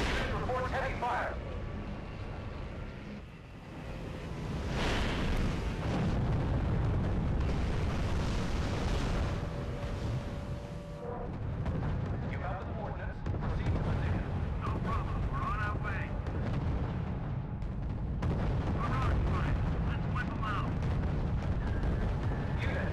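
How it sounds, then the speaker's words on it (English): City bombing and artillery fire in the strategy video game R.U.S.E.: a continuous rumbling barrage of explosions and booming shots with scattered sharper cracks, loud and sustained throughout. "Allied Command has ordered the bombing of the city."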